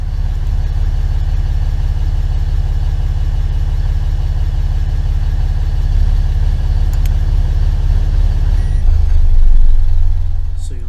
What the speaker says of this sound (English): So you'll notice here the RPM drops pretty drastically